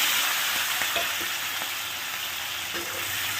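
Cabbage sautés in a pan with onion, tomato, ginger and green chillies, giving a steady close sizzle and fry with a few soft stirring taps, no voices.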